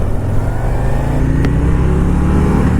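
A Harley-Davidson Road Glide ST motorcycle's engine, a loud close low rumble holding steady throughout with no talking.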